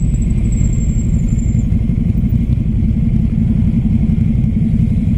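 Steady rumble of a Ducati Scrambler Flat Track motorcycle under way, its engine droning loud and close with a gritty low throb that holds fairly even, with no voices over it.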